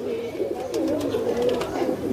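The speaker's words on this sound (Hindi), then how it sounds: "ये देखें क्या उम्दा कबूतर है भाई" Domestic pigeons cooing at a small backyard pigeon loft, a soft continuous low murmur of several birds close by with a few brief higher chirps on top.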